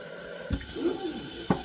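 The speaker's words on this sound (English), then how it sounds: "I'm going to fill this jar or vase with some water" Water is poured into a glass jar or vase, a soft splashing fill with two brief sharper splashes or clinks, close and alone.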